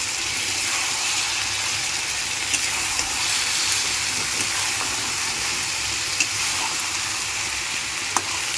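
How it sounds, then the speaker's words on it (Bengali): Elephant foot yam kofta curry fries in a pan of spiced masala with a little water, a loud, steady, close sizzle with a few faint clinks of stirring. "জল দিয়ে আমি একটু কষিয়ে নিচ্ছি। কোপ্তাগুলো দিয়ে ভালো করে কষিয়ে নিব।"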